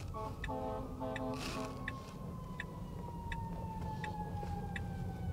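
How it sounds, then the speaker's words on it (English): A fire truck siren wails from straight ahead on a city street, its falling tone sweeping across the whole clip at moderate distance, heard from inside a Tesla over steady traffic rumble and periodic repeating beeps. "I do hear a fire truck. It's coming from straight ahead"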